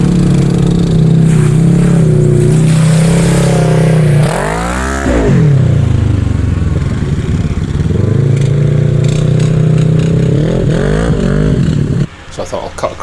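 A Toyota Land Cruiser 100 Series on all-terrain tyres revs hard through muddy ruts in a swampy off-road area, the engine droning loudly then surging and dipping, with a voice talking over it.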